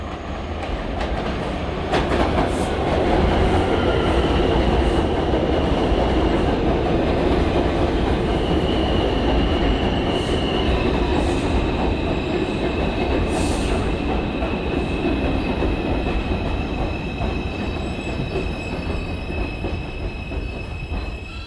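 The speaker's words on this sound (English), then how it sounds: "is an express 5 train to New Lots Avenue. Approaching the station, please stand away from the platform edge." A New York City subway 5 express train bound for New Lots Avenue pulls into a station, a loud continuous rumble of wheels and cars with rail clatter and long high-pitched wheel squeals over roughly twenty seconds.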